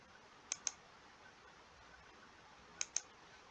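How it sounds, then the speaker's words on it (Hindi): A computer mouse clicks on an on-screen button while an online registration form is filled in: two quick double clicks, crisp and close, with a quiet pause between them in an otherwise silent room. "और ऐड पर क्लिक करना है।"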